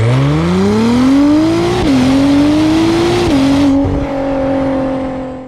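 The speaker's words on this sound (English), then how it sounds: "I do know he has a really awesome aftermarket exhaust on this car." An Acura NSX engine with a deep, raspy aftermarket exhaust revs loudly and holds, the pitch climbing and dipping before settling.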